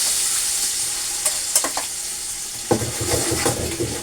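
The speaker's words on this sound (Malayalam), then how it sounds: "അപ്പോൾ ഉള്ളിയൊക്കെ ഞാൻ ഇളക്കിക്കൊണ്ട് നിൽക്കുകയാണ്" Onions sizzle and fry in a large, full pot, a steady broadband hiss broken by a few clattering scrapes of stirring, heavier rhythmic stirring toward the end; no voices.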